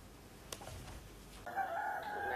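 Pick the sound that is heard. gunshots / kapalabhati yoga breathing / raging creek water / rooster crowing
rooster crowing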